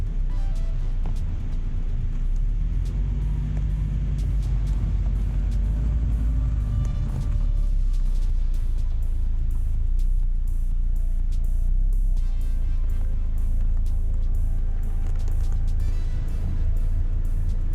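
A Volvo XC70 drives down a rough road, a steady loud low engine and tyre rumble filling the clip from start to finish, with occasional rattles over the uneven surface and no talk.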